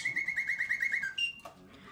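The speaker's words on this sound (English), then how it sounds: "This is a singing bird with no bird and no cage." A Bontems of Paris clockwork singing bird automaton, shown without bird or cage, trills a rapid series of bright, repeated whistled chirps, then ends with a couple of higher sustained notes and a soft mechanical click, close and clear.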